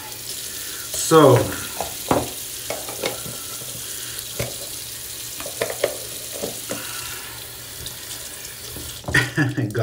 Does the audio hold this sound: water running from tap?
yes